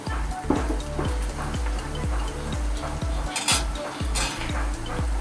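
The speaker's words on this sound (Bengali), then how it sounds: "কড়াতে যে পেঁয়াজটা ভাজা হচ্ছে" Onions fry in a wok as a spatula scrapes and knocks against the metal in a steady, near-regular rhythm, with dull thuds over a constant sizzle, close and moderately loud.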